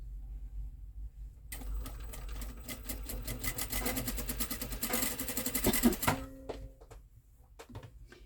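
A sewing machine runs steadily, stitching the other side of a piece of fabric without pins, with a rapid mechanical hum and clatter that starts abruptly after a quiet moment, then slows and stops near the end.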